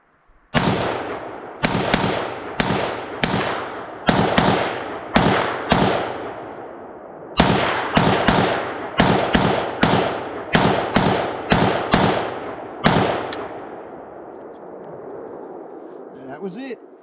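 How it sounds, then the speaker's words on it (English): A Polish WBP Jack AKM rifle fired at an outdoor range, about fifteen sharp loud shots in irregular bursts and singles, each echoing briefly, with a ringing tail after the last. "It's a smooth shooting AK as far as that goes."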